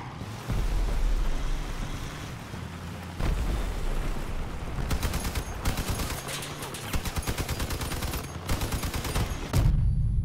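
Heavy cannon fire and armored vehicles in the Crossout combat game, with loud booming blasts and rapid bursts of automatic gunfire over engine rumble.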